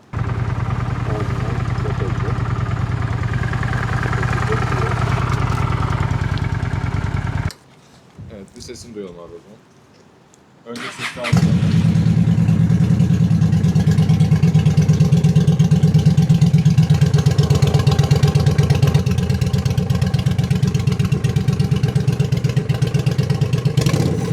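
A car engine with a new exhaust rumbles steadily, cuts out briefly with some clatter, then cranks back to life and settles into a loud, deep, even idle.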